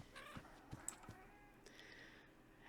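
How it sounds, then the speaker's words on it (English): Baby kittens in the game Minecraft give soft, faint meows, a few brief mews rising out of a quiet background with no talking. "And we have some baby kittens."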